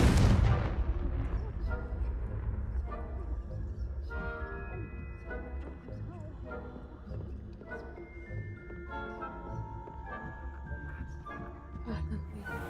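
Confringo spell blasts in a Harry Potter wizarding video game: repeated booming bursts layered over game music and effects, with talk running throughout.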